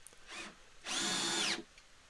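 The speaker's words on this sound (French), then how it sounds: "On va visser tout ça pour assembler notre chuckbox." A power drill driving a screw into plywood while assembling a wooden chuck box: a short whir, a pause, then a longer steady whining spin that winds down, close and alone.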